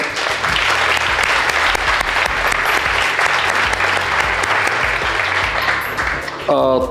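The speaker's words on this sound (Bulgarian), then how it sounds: "Аплодисменти за Никола" A room full of people applauds loudly and steadily for several seconds, dense clapping that fades out at the end.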